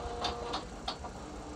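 An old 1990s printer prints a document, giving a run of quiet, rhythmic mechanical clicks and whirring bursts that repeat a few times over a soft steady hum.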